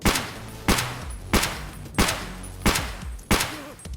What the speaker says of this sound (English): So you're gonna see 6 shots there